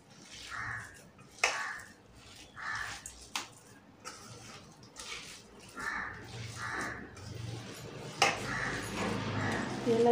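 Masal vadai batter being mixed by hand in a bowl with chopped onion and curry leaves: soft wet squelching and stirring, with a few sharp clinks of a utensil against the vessel, close and fairly quiet.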